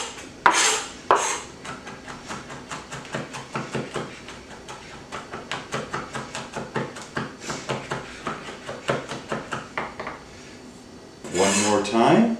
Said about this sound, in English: with the hand on the top of the knife right here for a quick rocking motion